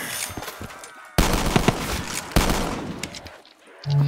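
Bursts of gunfire from a weapon in Call of Duty Black Ops 3, loud and dense in two sustained volleys that cut in abruptly, with faint game noise between.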